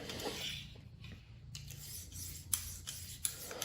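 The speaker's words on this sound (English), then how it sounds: "as you sharpen, it'll take away, it'll grind out the Sharpie mark, and you can see where the stone's actually hitting" A knife blade is drawn across a sharpening stone in soft, repeated gritty rasping strokes, quiet and close, with a couple of light metallic ticks and no talking.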